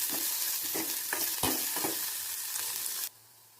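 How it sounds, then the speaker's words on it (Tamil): Small shallots sizzle and fry in hot oil in a pan for a home-cooked egg curry, a steady crackling hiss broken by several scraping stirs of a spoon, close and loud with no talk. "சின்ன வெங்காயத்தை போட்டு நல்லா வதக்கிக்கலாம்."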